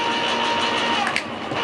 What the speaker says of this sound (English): Let's go with the can opener.